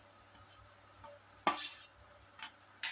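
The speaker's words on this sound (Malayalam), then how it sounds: "തേങ്ങയും കൂടി ചേർത്ത് ഒന്ന് വഴറ്റിയെടുക്കാം" Onion and grated coconut being sautéed for onion puttu, a faint pan sizzle broken by scraping strokes of a spoon and brief metallic clinks, close and mostly quiet with a couple of louder scrapes.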